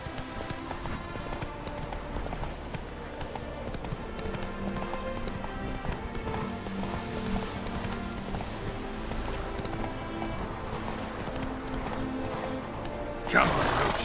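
Roach, the horse in The Witcher 3, gallops with a steady rapid drumming of hooves, occasional snorts, and someone speaking over the game audio.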